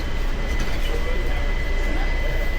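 JFK Airport AirTrain car interior with a steady rumbling hum of the moving train and a faint tonal whine, continuous throughout, with an announcement voice.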